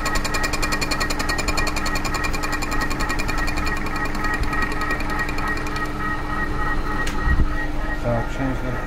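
A metal lathe making a finer cleanup pass in the backwards direction on a Vaux cylinder head, a constant busy mechanical whir and gear chatter, steady and close, with a brief knock near the end.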